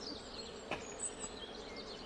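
Faint buzzing of honey bees around hives at a traditional Ukrainian apiary, a soft continuous hum with one brief closer buzz passing by.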